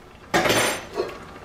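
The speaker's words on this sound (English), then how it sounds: "put our top on and move it away from the heat" A metal lid clatters onto a pot of rice in a home kitchen, one sharp knock followed by a softer settling clink, close and clear with no talking.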